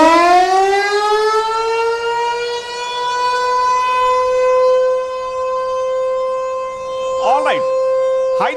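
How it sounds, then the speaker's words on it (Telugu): A blackout warning siren sounds during a civil defence mock drill demonstration at a TV studio. The loud, continuous electronic wail rises to a sustained harmonic tone and holds steady, with brief faint chirps near the end. "బ్లాక్అవుట్ సైరన్ కూడా ఒకసారి ప్లే చేసి చూపిస్తాను నేను"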